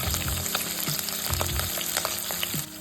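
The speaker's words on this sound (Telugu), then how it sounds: "వీటిని ఆయిల్లో ఫ్రై చేసుకోవాలండి." Green chillies and garlic sizzle and crackle steadily in hot oil in a pan for a ridge gourd and moong dal curry, a continuous close frying hiss with occasional stirring clinks and no talk.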